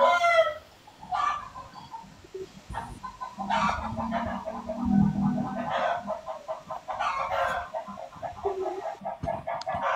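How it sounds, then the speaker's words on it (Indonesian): Chickens cluck in bursts close by while a rooster crows now and then, the calls overlapping irregularly above a low rumbling background. "Ada ayam."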